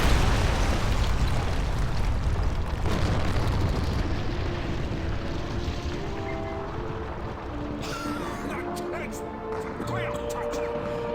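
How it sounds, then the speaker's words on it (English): Grenade blast in the World War II shooter Call of Duty 2, Soviet campaign, opens with a heavy rumbling roar that slowly fades and settles into lighter battlefield noise, with some clicks and faint voices near the end. "Grenades! Boom."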